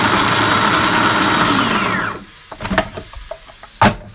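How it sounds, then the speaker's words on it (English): Kitchen mixer finely chopping onions and garlic, a loud close whirring motor spin for about two seconds that winds down, followed by a few light clicks and knocks. "the easiest way, I think, to finely chop onions and garlic is just to put them in a mixer"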